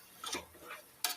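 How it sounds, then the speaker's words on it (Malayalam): Coriander powder is stirred into beef curry in a few soft, close scraping and clinking strokes, ending in a sharper scrape, faint and without talk. "ഇത് നല്ലവണ്ണം ഇളക്കി ചേർക്കുക."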